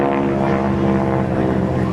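A North American T-6 propeller airplane dives in at an airshow with its smoke system on, a loud, steady, droning engine roar close overhead throughout.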